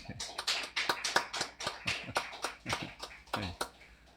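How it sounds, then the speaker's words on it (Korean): A small church congregation claps in uneven, loosely timed bursts, close and moderately loud, with no voices over it. "앉아 있으니까 박수 한번 쳐주시죠"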